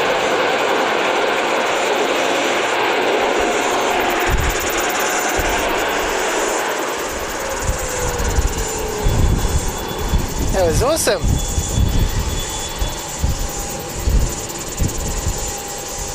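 Aircraft engines at Wellington Airport, a broad roaring rumble that swells and fades over several seconds with a brief whistling sweep near the middle, heard outdoors under excited talk and cheering.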